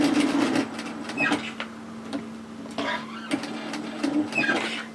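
A sewing machine stitches along the overlocked edge of a long-line pleated hoodie seam, a steady close mechanical whir with short bursts and pauses, the motor hum running throughout.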